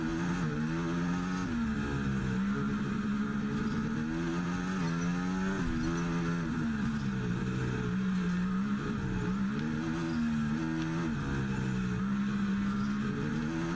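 A racing car engine in F1 24 on the Miami circuit holds a continuous, fairly loud drone at full throttle, its pitch wavering up and down steadily throughout with no talking over it.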